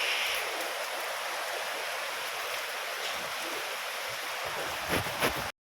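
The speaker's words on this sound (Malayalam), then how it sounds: "ഇപ്പം മഴ പെയ്യുന്നുണ്ട്" Rain falls outdoors as a steady, moderately loud hiss that holds evenly and then cuts off abruptly at the end.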